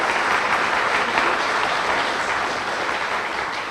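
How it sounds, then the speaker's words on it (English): Audience at an elder awareness conference breaks into sustained, dense applause welcoming a speaker to the front, steady and full throughout before easing slightly near the end. "Let's give her a round of applause."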